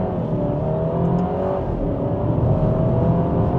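An Alfa Romeo Giulia Veloce accelerates hard on the road, its engine a steady, loud, continuous drone with a rising whir and no talking.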